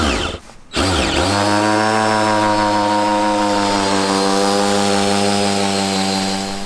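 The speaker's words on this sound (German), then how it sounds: "werden wir jetzt einmal diese Schrauben an gewissen Punkten reindrehen" Power screwdriver driving screws into a wooden raised bed, a loud steady motor whine running almost the whole time after a brief pause near the start, with no talk.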